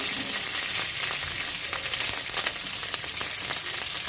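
Curry leaves and green chillies sizzle hard in hot oil over a fast flame, a steady loud crackling hiss with fine pops throughout, no voices.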